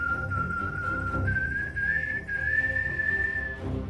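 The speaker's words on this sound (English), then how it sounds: "The whistling gets closer." A man whistles a single clear tune that climbs gradually in pitch, heard alone over a low background hum as a story sound effect.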